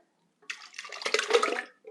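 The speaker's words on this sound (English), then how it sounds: "I'm going to take 28 ounces of whole peeled tomatoes, and we're going to pour this into the blender." Canned whole peeled tomatoes pour into a blender in a thick, wet, gurgling slosh that builds and lasts about a second, close and clear in a quiet kitchen, ending with a brief final plop.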